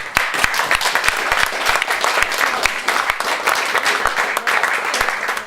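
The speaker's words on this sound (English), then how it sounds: "I think that deserves a round of applause." Enthusiastic applause from an audience at a London jazz club, loud and dense, with sharp individual claps standing out close by over the steady roar of the crowd.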